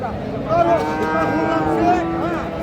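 Friesian or crossbred cow at a cattle market lets out one long, loud, close moo, drawn out over a couple of seconds with a wavering pitch, over low market background noise.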